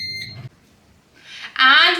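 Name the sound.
air fryer beeping after pressing start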